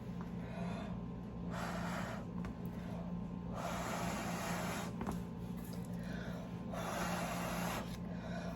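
Breath blown hard over wet paint on tiles in three long, breathy gusts, each lasting about a second, against a steady low hum, with no talking.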